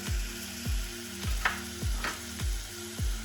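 Onions fry in a pan for a vegan lasagne ragu. A soft, steady sizzle runs under repeated rhythmic scrapes of a utensil stirring them, with a few brighter clinks.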